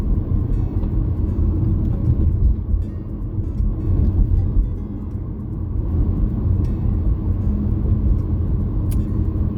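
Busy car traffic at a Canadian drive-thru, a steady low rumble of engines and passing vehicles that holds constant throughout with no clear talk.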